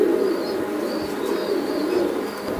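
Pigeons at a pigeon farm give low, soft, continuous cooing in rolling phrases, close by, with a faint hiss of background noise and no talking.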